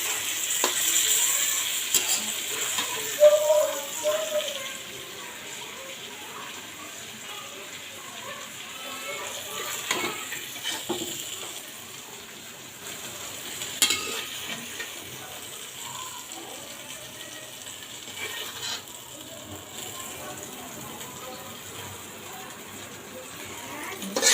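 Fried fish in a pan with onion and spices gives a low, continuous sizzle, with occasional stirring clicks and a person talking now and then.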